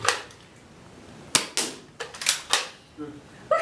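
A Nerf gun fires foam darts in a series of quick sharp pops and clacks, roughly half a dozen shots spaced unevenly and close up, with a voice speaking faintly.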